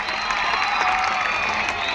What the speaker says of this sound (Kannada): ಇವ್ರು ಒಂದು ಜೋರಾದ ಕೂಗು ಚಪ್ಪಾಳೆ ಬರಲಿ ತಮ್ಮಿಂದ.